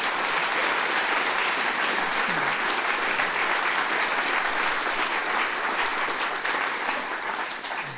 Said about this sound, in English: our audience here in Nottingham are very keen to reward you with this all-consuming round of applause